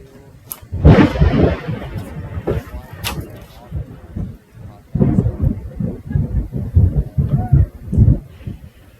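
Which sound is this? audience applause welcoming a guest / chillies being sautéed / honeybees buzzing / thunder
thunder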